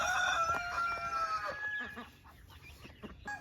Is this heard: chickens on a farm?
yes